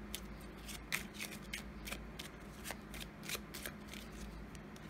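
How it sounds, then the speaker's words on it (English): An Angel Whispers oracle card deck is shuffled by hand, giving soft, close riffling and flicking of cards in quick uneven bursts against a quiet room. "Let's pull one final card from the Angel Whispers cards."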